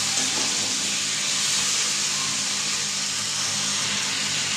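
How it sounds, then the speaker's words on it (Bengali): Water is poured into a pan of fish-head vegetable curry, producing a steady, close rush of splashing and hissing that lasts throughout. "আপনার ভালো করে নেড়ে চেড়ে তারপর আমি জল দিয়ে দেবো"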